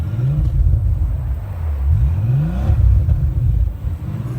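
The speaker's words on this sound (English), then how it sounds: "Give me a couple revs." A 2012 Bentley Flying Spur Speed engine revving a couple of times, deep rising and falling rumbles that stay fairly muted, close and steady with no talking.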